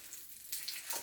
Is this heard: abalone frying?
yes